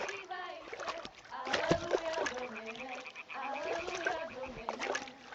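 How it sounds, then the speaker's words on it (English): A thrown stone splashes into water in the Kingdom Come: Deliverance video game, a short sharp plop partway through, amid croaking frogs and in-game voices talking. "Throw a stone in the water near her to lure her away."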